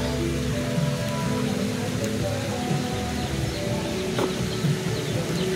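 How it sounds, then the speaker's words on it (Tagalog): Steady rain patters outdoors in a continuous hiss, with a few faint bird chirps in the background. "Ayan na yung ulan."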